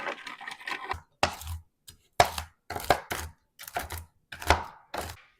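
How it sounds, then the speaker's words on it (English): Walnuts chopped with a knife on a board, heard as about eight close, crisp, separate knocks and crunches spaced in irregular pauses, with no talking. "So I'm going to chop these up a little bit"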